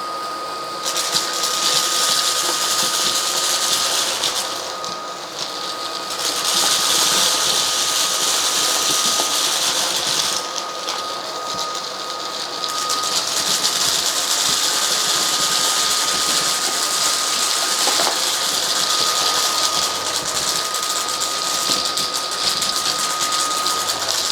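A cordless stick vacuum runs continuously at close range with a loud, high-pitched whine, briefly dipping twice as it sucks up heavier debris across a floor, and no one talks.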